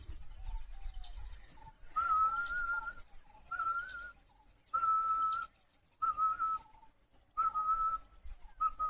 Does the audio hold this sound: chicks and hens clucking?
no